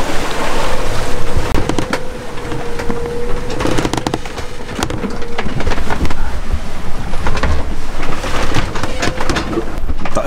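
A sailboat crossing the open Atlantic from St. Maarten toward the Azores, with loud, constant rushing of waves and wind and a dense, steady wash of water noise and no talking.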